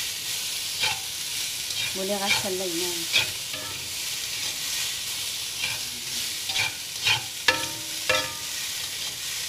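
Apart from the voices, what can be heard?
frying noodles in pan for shrimp noodle dish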